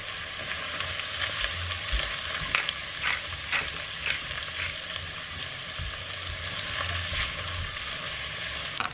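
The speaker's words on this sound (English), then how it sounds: "In goes the garlic, celery, bay leaves, and fresh from the garden, my thyme." Garlic, celery, bay leaves and fresh garden thyme sizzle steadily in a hot pan in a home kitchen, with a constant frying hiss broken by scattered crackles and a few stirring clinks, close and moderately quiet.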